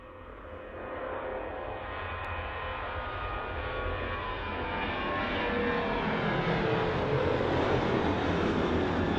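A fixed-wing aircraft flying near Birmingham Airport, its engine roar building steadily and growing louder as it passes close overhead, a continuous heavy drone with no talk.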